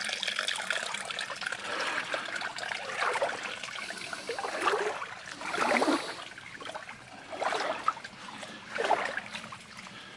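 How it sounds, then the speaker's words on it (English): A small side stream trickles and gurgles at Liard Hot Springs, a soft, uneven water sound with occasional louder splashes, close by and fairly quiet. "small streams from the side"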